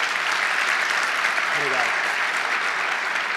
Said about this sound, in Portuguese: Uma salva de palmas para esse brasileiro aqui